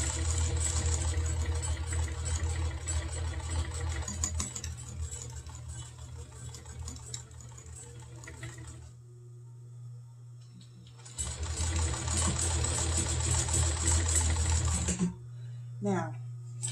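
Sewing machine stitching a lace hem with a tulle edge: a rapid, steady mechanical whir of running stitches that stops briefly partway, then resumes and cuts off near the end.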